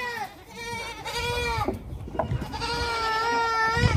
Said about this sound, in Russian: козлятки.